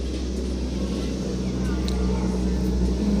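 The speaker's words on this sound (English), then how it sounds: "People driving by." Cars drive past a house porch, producing a steady, loud low rumble of traffic that holds without pause.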